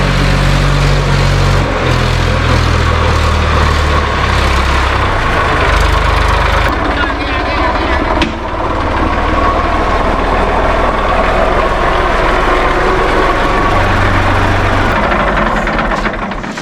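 A tractor engine runs steadily and loudly up close in the rain, a continuous low rumble with some knocking texture and no pauses throughout.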